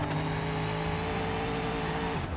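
A powerful taxi's engine hums at a steady, loud pitch in a driving game, then the tone shifts near the end as the engine lets off.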